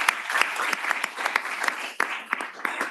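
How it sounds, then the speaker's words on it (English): Audience applause at the Arctic Connections 2025 conference, clapping for a panel: a steady, fairly close wash of many hands with sharp individual claps standing out, continuing throughout without voices. "Then please give an applause to the panel."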